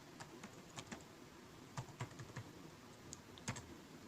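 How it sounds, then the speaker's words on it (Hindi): Keys tapping on a computer keyboard as a password is entered, in a scattered run of light, quiet clicks with short pauses, heard alone with no voices. "यहाँ आप पासवर्ड लिखें"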